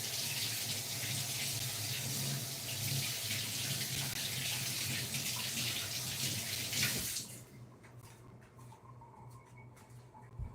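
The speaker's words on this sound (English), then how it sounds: "A second, just wash my hands" Water from a kitchen tap runs hard and steady as hands are washed beneath it for about seven seconds, then shuts off, leaving faint room noise and small clatter.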